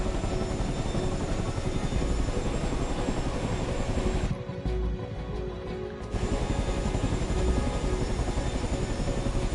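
A helicopter engine and rotor in Microsoft Flight Simulator drone steadily and loudly, with the turbine whine holding constant apart from a brief dip in the middle.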